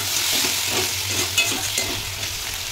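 Masala with onion and garlic paste frying in a pan, giving a steady close sizzle with a few soft scraping stirs over a low hum, and no voices.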